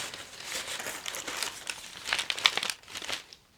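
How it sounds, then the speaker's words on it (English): Paper crinkles and rustles up close in irregular bursts, rising in the middle and fading out near the end. "Bunch of paper, basically, that I'm moving out of the way."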